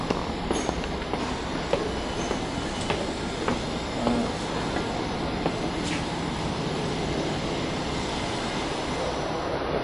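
A train rumbles past with a continuous roar and rattling wheels, occasional faint squeals and clicks over the steady din.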